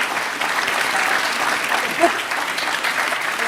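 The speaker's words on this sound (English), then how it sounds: "Don't use up all of your applause." Audience applause at a public conversation event about liberty: a loud, dense round of clapping that holds steady from start to finish, with one brief sharper accent midway.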